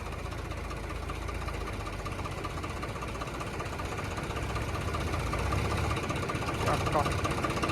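A tractor engine labors steadily while pulling through soil at a school grounds being filled with earth, a continuous rumbling drone close by with voices talking over it.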